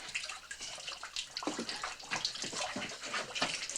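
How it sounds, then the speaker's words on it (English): Water splashing and trickling inside an old underground vault, faint uneven sloshing that picks up after a moment and keeps going in irregular bursts. "Oh, Danny, there's water in there."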